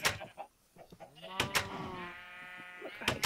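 Sheep bleating in a video game, a drawn-out, wavering bleat near the middle, with sharp clicks and a person talking around it.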